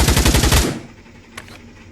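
AUG assault rifle fired in the VR shooter Pavlov, a rapid burst of about seven or eight loud close shots in quick succession that stops abruptly, followed by a short fading tail and a faint click.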